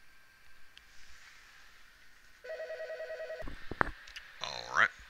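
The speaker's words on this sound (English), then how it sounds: "I actually had to stop in the video and then answer my phone" A mobile phone rings indoors with a steady electronic tone pattern, loud and close, then stops as handling noises and a brief voice follow.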